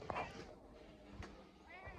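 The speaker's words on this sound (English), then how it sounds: "he's meowing" A pet cat meows at a feeding spot, apparently wanting more food; two short harmonic meows, one near the start and a fainter one near the end, against quiet outdoor background.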